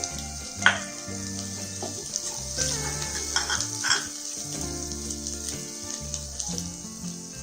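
Ginger, garlic, coconut powder and chili powder fry in a pan for a mango fish curry, giving a steady close sizzle broken by scraping stirs and a few sharp clinks.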